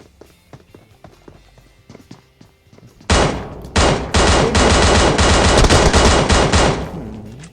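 Soft footsteps and scattered clicks give way to a sudden, loud, sustained burst of automatic gunfire in a video game, hammering steadily for several seconds at close range.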